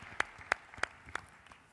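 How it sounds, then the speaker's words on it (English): Scattered, fairly faint handclaps from an audience at a youth conference plenary session, five or so distinct claps spaced at a slow, uneven rhythm rather than a full ovation. "we're now going to give a huge round of applause to our councillors and to our delegate speakers and our essay winner"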